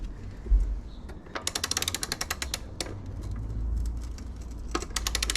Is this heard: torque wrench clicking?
yes